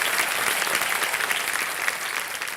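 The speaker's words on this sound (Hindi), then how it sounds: "तालियों के साथ इनका स्वागत किया जाए।" Sustained audience applause greeting guests arriving on a game show stage, a dense, even wash of many hands clapping close by with no talking.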